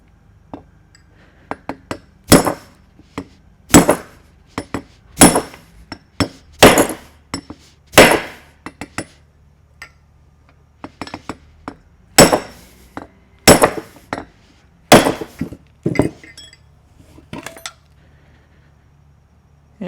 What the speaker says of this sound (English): we can drop a brass drift in here, and we'll try to hammer it out that way.